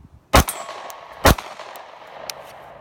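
A Sig P365 pistol fires live rounds: two sharp, loud cracks about a second apart, each with a brief ringing tail, followed by fainter clicks and metallic clinks.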